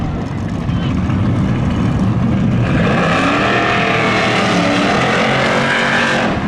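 Race cars at the Seekonk Speedway spectator drags roar past, a loud, sustained engine blare that rises in pitch as they accelerate, with a commentator talking over the noise.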